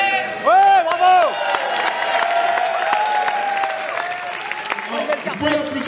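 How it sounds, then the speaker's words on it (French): An audience at a judo demonstration on Réunion applauds and cheers loudly, with whoops rising over a sustained crowd roar while an amplified voice carries over the clapping. "Vous pouvez l'applaudir plus fort parce que c'est pas facile de chuter."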